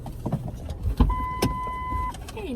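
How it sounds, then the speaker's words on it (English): A car being parked: engine rumble with clunks and knocks, a steady whine like a power window, then a short rising mechanical tone near the end, all close by with no talking. "parking the car"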